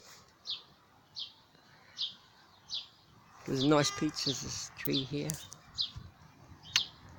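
Regular, evenly spaced bird chirps repeat in the background, continuing while a person speaks nearby.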